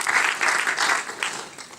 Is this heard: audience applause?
yes